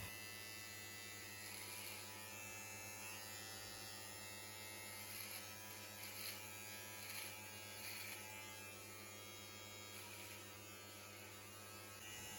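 An electric beard trimmer runs steadily while lining up the beard along the bottom of the jaw, a continuous close buzzing hum with slight shifts in tone as it moves across the hair, with no talking.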